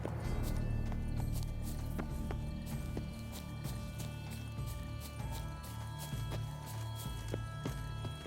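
Horse hooves galloping in The Witcher 3 video game, a steady rapid clip-clop rhythm running throughout over a dense low game soundtrack and ambience, with no talk.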